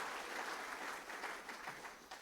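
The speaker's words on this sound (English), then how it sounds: "Brilliant round of applause for the Tasman Tykes." A crowd at a young farmers' awards night gives a warm round of applause for a children's team, the clapping steady and dense throughout the short burst.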